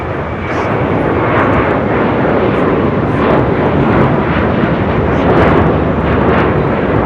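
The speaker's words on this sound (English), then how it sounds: "This is Qatar Airways 742 taking off to Doha on the A350" A Qatar Airways Airbus A350-1000 taking off from LAX bound for Doha, a loud, continuous broadband jet roar that stays strong and close throughout, with no voices.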